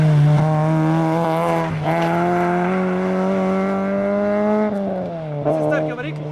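A car engine, likely a Mazda 323F at a motorsport event, revs hard in a sustained high-pitched howl, rising and dipping through several bursts with a tire squeal near the end, loud and close over crowd noise.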